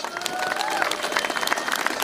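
An audience at a Newcastle anti-racism gathering applauds Laura Pidcock of Show Racism the Red Card, dense crowd clapping heard from a distance with faint voices and tonal sounds drifting through it.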